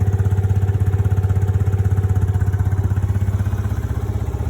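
Close by, a motorcycle engine holds a steady speed of about 4,000 rpm during a noise-measurement test, giving a continuous, evenly pulsing drone with a firm low throb.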